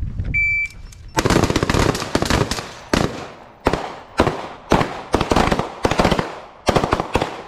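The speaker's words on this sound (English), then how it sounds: "you will come up with your carbine and fire 3 rounds. Transition to pistol and fire 3 rounds" Sharp, loud gunfire from a carbine and then a pistol on a training range, single shots spaced out in a string of about six to eight reports, each followed by a ringing echo.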